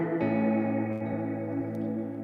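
Sustained tones ring out through a long reverb tail from an Empress ZOIA effects pedal, layered chords smearing and decaying slowly with a few faint higher blips, loud and with no voices.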